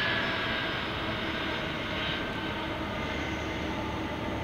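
An aircraft engine roars steadily at Boeing Paine Field in Everett, a broad continuous rumble and hiss that holds at an even level from a moderate distance with no talking.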